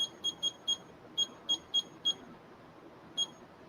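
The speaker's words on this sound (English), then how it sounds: "See, it's beeping." A kitchen timer gives short, sharp high-pitched beeps in quick irregular bursts, then pauses before one more beep, fairly close and clear.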